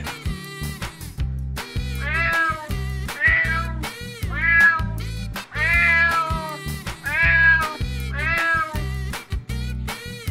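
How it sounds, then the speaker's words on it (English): A cat meows repeatedly, several drawn-out cries in a loose rhythm, close and clear over a low, steady background tone. "Here we go. Cat."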